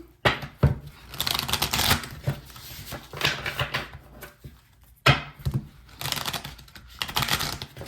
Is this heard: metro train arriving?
no